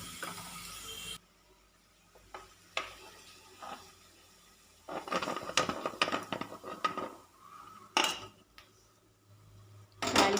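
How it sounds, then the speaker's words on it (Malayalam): Fried shallot tempering is poured into a drumstick dal curry in a home kitchen: a dense hissing splash of several seconds, set between sharp clinks of a metal pan and spoon and quiet gaps. "ഇനി നമുക്കിത് കറിയിലേക്ക് ഒഴിച്ചു കൊടുക്കാം"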